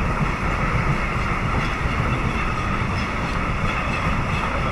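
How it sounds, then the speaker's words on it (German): A freight train loaded with cars rolls past nearby, giving a steady, loud rumble with continuous wheel and rail noise and no clear breaks throughout. "Sogar Züge mit Autos oben drauf fahren hier rum und belästigen uns."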